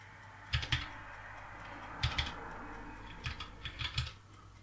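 Keys tapped on a computer keyboard while building a word game, heard as scattered clusters of quick clicks in short bursts, fairly close and moderately quiet, with no talking.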